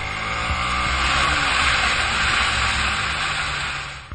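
Riding a Suzuki Gladius 650 motorcycle along the motorway produces a constant, loud rush of wind and engine roar that holds steady throughout and fades slightly at the end.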